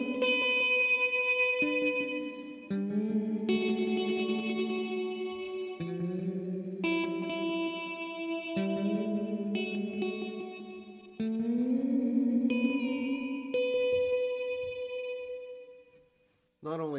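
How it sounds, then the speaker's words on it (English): Guitar run through an effects unit with reverb, chorus and echo, a steady stream of sustained, shimmering notes played alone with short gaps between phrases, loud and close, fading out at the end. "And now I'll play the same thing with an affected signal."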